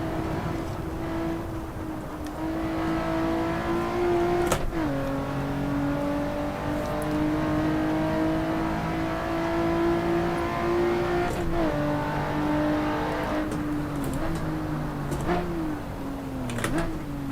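A Lotus race car engine in the Assetto Corsa racing game drones loudly and continuously, its pitch climbing under throttle and dropping sharply at several gear shifts.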